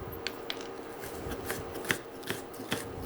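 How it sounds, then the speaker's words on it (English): An onion is chopped and diced with a knife, with crisp, irregular cuts against a board about every half second over a low, steady kitchen hum. "I'm chopping up and dicing an onion."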